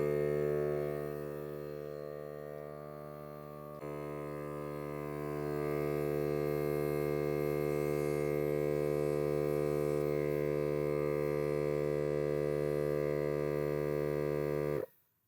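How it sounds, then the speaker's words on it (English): A Milwaukee M18 cordless tire inflator runs continuously with a steady droning motor hum, shifting slightly in pitch partway through before cutting off sharply at the end. "set it to 70 PSI and see how long it takes for this to inflate"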